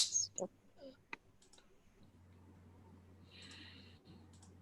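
A few sharp computer mouse clicks while a trading order is set up, with a faint steady hum under them and no clear talk.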